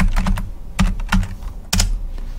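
Someone types a git status command on a computer keyboard, giving several quick bursts of crisp key clicks with short pauses between them, close and clear with no talking.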